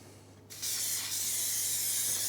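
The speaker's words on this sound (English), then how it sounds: "a bit of olive oil spray" Olive oil spray mists over seasoned chicken wings set out for baking, starting about half a second in as a steady, close, continuous hiss after a quiet moment, lasting to the end.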